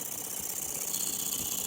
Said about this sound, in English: It's an external combustion engine.